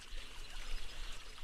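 Swimming through water in the video game 7 Days to Die gives a steady, soft wash of splashing and sloshing, alone and fairly quiet.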